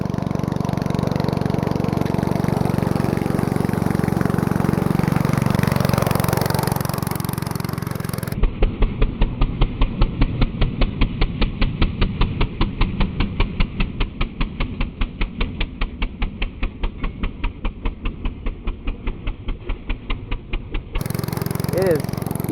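A go-kart with a stock engine labours up a hill, its buzzing single-cylinder note turning into a rapid, evenly spaced loud pulsing as it slows, then the sound cuts off abruptly.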